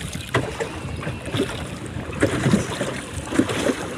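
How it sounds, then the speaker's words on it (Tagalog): Strong waves slosh and slap around a small paddled boat without an engine, out fishing at sea, heard as close, irregular splashes and knocks over wind rumble. "Lakas ang balod. Hala, alon."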